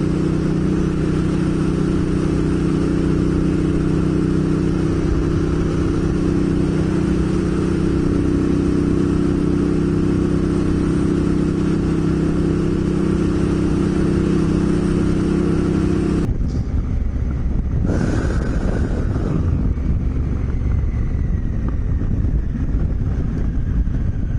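Big motorcycles run at 100 km/h on a dirt road near Pildappa Rock, giving a loud, steady engine drone with wind roar. Near the end the drone cuts back sharply and then picks up again briefly.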